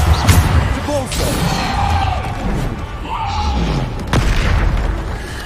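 Bombarda spell blasts in the Hogwarts Legacy video game, booming explosions with a rumbling low end amid busy combat noise, loud and close, while a player shouts spell names over them.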